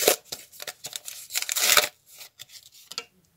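Small paper surprise packet being torn and crinkled open by hand, a burst of close crisp ripping and rustling followed by scattered short crackles and rustles that fade to quiet.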